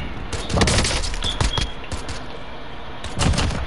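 Assault rifle fire in a video game crackles in rapid bursts, dense overlapping shots close and loud, pausing briefly before another volley near the end.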